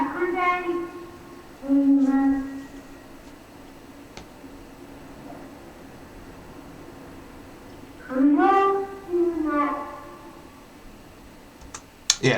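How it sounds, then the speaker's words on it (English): Public-address loudspeaker announcement in the Japanese countryside, a distant voice in short drawn-out bursts with long gaps of quiet ambience between phrases, echoing faintly. "One of the interesting things you get in the Japanese countryside is you get announcements over the PA."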